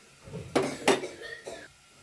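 Metal pots clatter in a kitchen as eggs go on to boil: two sharp clanks close together, then a softer knock, all close and brief.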